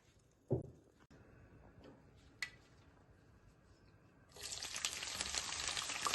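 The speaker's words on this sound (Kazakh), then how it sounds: "Қызып тұрған майымызға туралған жуамызды салып қуырып аламыз." Chopped onion dropped into hot oil in a pan gives a sudden loud sizzle that rises to a steady bright hiss for the last couple of seconds, after quieter kitchen clatter and a few knocks.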